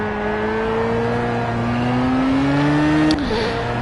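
Race car engine in Project Cars holding a steady loud drone as the revs climb gradually, then a sharp break near the end where the pitch drops and wavers, with no talk.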